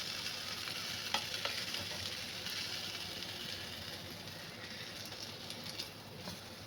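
A bread pakoda filled with cheese and paneer, made without deep frying, crackles and sizzles steadily as it roasts in a pan, with a few soft clicks of the turner and no talking.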